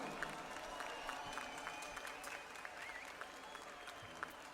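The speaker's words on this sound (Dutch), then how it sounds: "Mag ik even een moment nemen om een heel groot applaus te vragen voor alle mensen op dit podium." An audience at an evening stage concert during a festival night applauds the musicians, a continuous fairly faint clatter of clapping with scattered sharp claps and a little crowd murmur.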